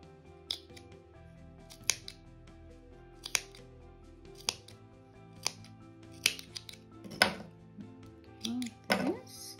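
Scissors snipping yarn for a crocheted amigurumi bear, heard as sharp, close, separate cuts spaced a second or so apart, with handling noise and a few light knocks between them.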